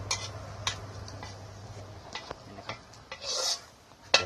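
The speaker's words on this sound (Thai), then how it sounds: "เดี๋ยว ตักใส่จานนะครับ" A crispy, golden fried egg is scooped from the pan onto a plate, with a few scattered scrapes and light metallic clinks of utensil on cookware, and a louder tap at the very end.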